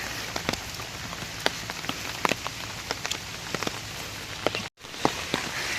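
Heavy rain pours steadily over flooded fields during a monsoon day, a dense even hiss scattered with sharp close drops and splashes, with a brief break near the end before it resumes.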